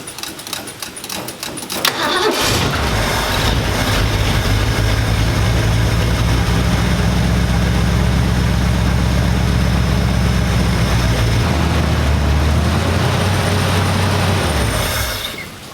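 The engine of a 1965 Ford Mustang, fitted with a new carburetor, catches after a couple of seconds of noisy cranking. It then settles into a loud, steady, rumbling idle close by before cutting off near the end.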